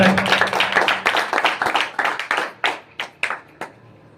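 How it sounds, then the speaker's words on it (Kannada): A church congregation claps along during a pastor's sermon in Bidar, a dense burst of many hands that thins into a few slower, separate claps before fading out. "ಚಪ್ಪಾಳೆ ತಟ್ಟಬೇಕು"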